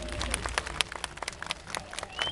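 A crowd at an AK Parti political rally in Erdemli, during a visit by state minister Zafer Çağlayan, gives a brief ragged burst of clapping out in the open, with a few sharp individual claps standing out and voices mixed in.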